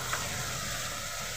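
Masala of Kashmiri chili powder and sugar sizzles steadily in a pan for a mutton and potato curry as a little water goes in, a continuous, even frying hiss with no voices.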